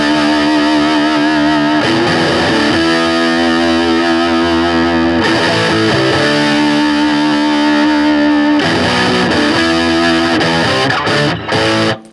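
Heavily distorted electric guitar playing a riff of parallel chords in a rock track, loud and dense with repeating phrases and sharp chord changes, no talking over it.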